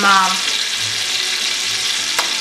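Lamb chops frying hard in hot grease with a sprig of thyme, a loud, steady, close sizzle that runs without a break.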